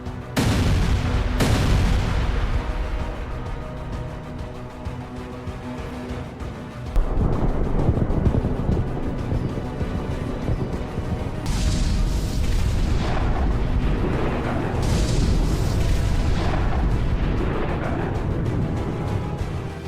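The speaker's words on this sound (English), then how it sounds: "The halted carriers detonate." Armored personnel carriers halted in a column detonate in a battle, a loud continuous roar of blasts and rumbling booms with several sharp bursts, sustained and heavy throughout with no voices.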